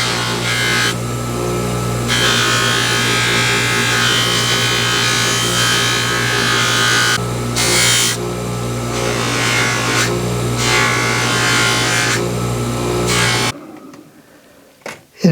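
A power polisher works the cross peen of a steel jewelry hammer, a loud steady whirring grind that rises and dips as the metal is pressed in, then stops abruptly near the end.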